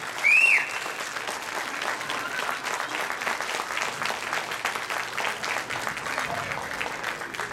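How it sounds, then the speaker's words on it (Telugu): An audience at a Vijayadashami cultural program applauds loudly, a steady, thick clapping that carries on evenly, with a brief raised voice or whistle at the very start. "మరొకసారి గట్టిగా ఆల్బనీ వారి కన్నా ఇంకెవరు గట్టిగా చప్పట్లు కొట్టలేరని గుర్తుంచుకునే వాళ్ళు."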